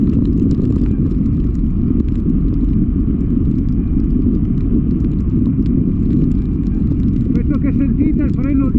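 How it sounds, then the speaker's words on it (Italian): Rear brake of a mountain bike with organic pads squeals in wet snow on a night ride at Malga Campo, a wavering high whine rising near the end over a constant loud roar of wind and rolling noise. "Sentite il freno dietro, le famose pastiglie organiche che non dovrebbero fare rumore anche col bagnato, invece fanno il casino della Madonna."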